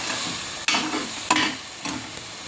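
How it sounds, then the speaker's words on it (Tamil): Spices with garam masala sautéed in a pan: a low continuous sizzle broken by three scraping stirs of a spoon, close and moderately loud. "நல்லா வதக்கி விடுங்க."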